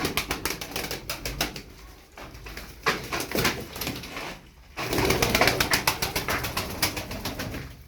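Tumbler pigeons, densely feathered play birds, beat their wings in rapid bursts of flapping. Soft cooing sits between the fluttering, with the wing noise loud and close.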